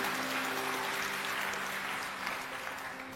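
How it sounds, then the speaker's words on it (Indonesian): A church congregation claps during a sermon, a steady wash of applause at moderate distance that slowly fades toward the end, with no speech over it. "Kita beri tepuk tangan untuk kebenaran ini"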